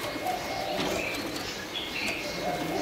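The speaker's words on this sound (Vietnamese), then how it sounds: "Đây là chim cu Thái." Thai doves at a bird market, soft repeated cooing heard against a steady hum of background noise and faint chirps from other birds.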